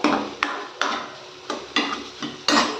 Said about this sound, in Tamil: ஆனியன் நல்லா வதக்கி எடுத்துக்கோங்க